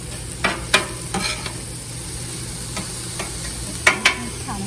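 Roasted corn cut off the cob cooks in a pan with a steady sizzle, while a handful of sharp stirring scrapes and taps break through at irregular intervals.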